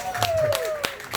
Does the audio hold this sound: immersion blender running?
no